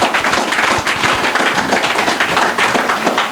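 Audience applause at a Tamil Thirumanthiram festival gathering in Tiruvannamalai, loud and dense, a steady wash of many hands clapping for the whole stretch with no speech over it.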